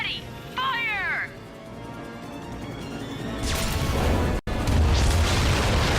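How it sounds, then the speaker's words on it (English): Ion cannons fire at battleships in the Ratchet and Clank video game, a loud sustained roaring blast with crashing impacts after a brief electronic warble, broken by a momentary cutout before the rumble resumes. "Shooting down the smaller ships will charge your ion cannons ready. Fire!"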